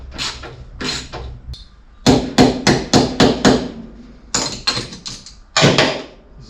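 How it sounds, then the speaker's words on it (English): An air ratchet hammers away on a Holden Commodore V8 barn-find restoration, firing in loud, sharp bursts of rapid rattling impacts separated by short pauses, up close with no talking. "This is the old ratchet hammer."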